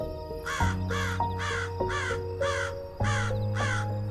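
Crows cawing in a regular rhythm, about seven harsh calls spaced evenly over a sustained low musical drone, with no one speaking.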